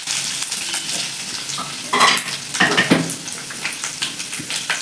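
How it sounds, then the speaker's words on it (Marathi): Finely chopped garlic sizzles steadily in a hot pan for street-style veg momos, with a spoon stirring and scraping the metal now and then, close and fairly loud, no talking. "असं लसूण चांगला परतून घ्यायचा"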